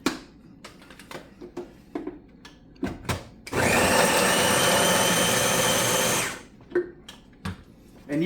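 A food processor or grinder whirs loudly for about three seconds, blending sweet potato with spices, framed before and after by light tapping and handling clicks.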